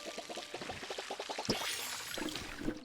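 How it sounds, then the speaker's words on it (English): Another player's plants are watered in the video game Palia, with a short burst of pouring, splashing water from a watering can, moderately close, preceded by light rhythmic taps. "we can actually water another player's plants"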